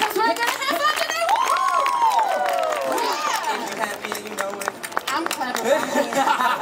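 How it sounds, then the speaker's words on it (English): Audience at a live R&B show at Universal Studios Japan clapping along in rhythm, the claps sitting under loud singing voices and bright crowd noise throughout. "everybody just clap your hands"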